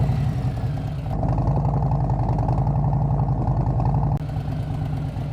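A motorcycle engine chugs steadily at low speed, its rhythmic thumping rumble close and continuous, with a slight change in tone partway through.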